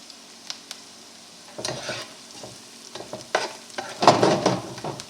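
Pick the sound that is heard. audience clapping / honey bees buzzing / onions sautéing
onions sautéing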